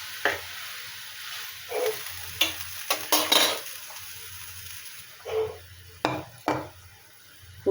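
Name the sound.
cauliflower, potato and koi fish curry simmering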